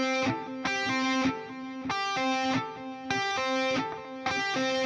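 Distorted electric guitar playing a solo with tapped notes and pull-offs, a repeating phrase of bright sustained tones separated by quick note changes, clean and close with no voices.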